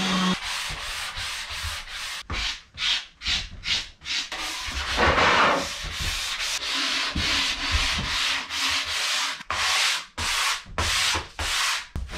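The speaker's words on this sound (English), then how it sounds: "now we'll take it apart and sand it" Sandpaper rubbing a wooden door stop aboard a wooden boat, loud close rasping strokes in a steady back-and-forth rhythm with brief pauses between passes.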